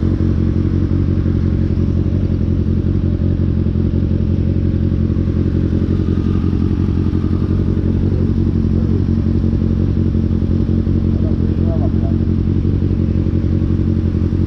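A Kawasaki ZX6R motorcycle ridden with its engine droning loud and steady throughout, heard close up with constant rumble and wind noise and a few faint clatters.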